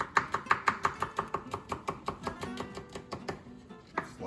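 A knife slicing half a garlic clove on a cutting board, a fast, even run of about twenty crisp chops that slows and softens toward the end, close and clear with no talk.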